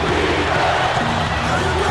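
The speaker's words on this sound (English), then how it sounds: "the crowd is loving it" Crowd in the NBA 2K13 basketball video game cheering late in the fourth quarter after a big shot: a steady, dense roar filling the whole moment, with a voice faintly mixed in underneath.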